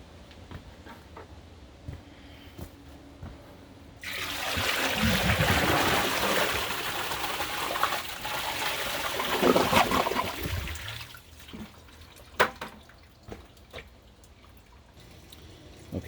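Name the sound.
American Standard Tribor toilet bucket flush water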